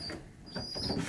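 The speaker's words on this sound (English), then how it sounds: "this is a gold ring pigeon" A young racing pigeon with a gold ring sits in a training basket, giving a few soft, low coos in short bursts, close and faint.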